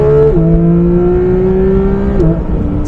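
A Porsche 992 GT3 fitted with a JCR exhaust revs loud and close, a sustained metallic engine wail that holds steady, dips in pitch briefly and settles again, with no talking.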